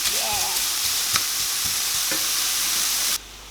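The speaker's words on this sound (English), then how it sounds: "into the frying pan, and we just want to cook that for about 5 minutes until it all is kind of brown" Bacon sizzles in a frying pan for a creamy keto dinner with zoodles. The loud, continuous crackle comes with a few stirring taps, then cuts off abruptly near the end.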